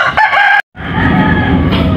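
Native laying hens at the egg nests, loud close clucking and drawn-out calls broken by a brief silence, then a sustained squawk.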